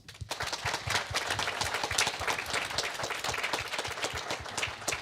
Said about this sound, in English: would everyone please give a round of applause?